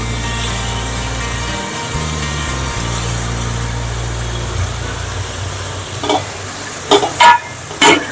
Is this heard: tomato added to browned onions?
yes